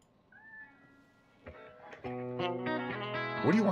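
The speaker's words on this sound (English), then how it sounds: "what do you want, kitty?" A cat meows indoors, a clear rising-falling call early on, followed by strummed guitar chords that build in loudness and overtake the room.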